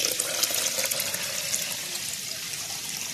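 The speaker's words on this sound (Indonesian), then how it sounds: "Masukkan air masak." Boiled water pours steadily into a drink being mixed with sugar, a continuous bright splashing trickle at close range, alone without talk.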